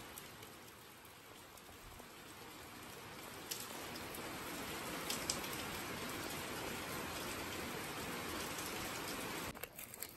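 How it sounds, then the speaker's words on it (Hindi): Rain falls steadily in a mountain village in Kinnaur, a constant hiss of drops hitting the ground and surfaces that holds throughout at a low, even level with no voices. "और पता नहीं कब रुकेगी ये बारिश।"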